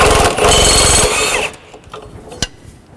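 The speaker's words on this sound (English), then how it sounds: "now I'm going to use my 17mm spanner and socket to take off the anti-roll bar link" A 17mm spanner and socket work on the anti-roll bar link of a 2001 Land Rover Defender, giving a loud, fast run of metallic ratchet clicks for over a second, followed by a few sparse knocks and a sharp clink.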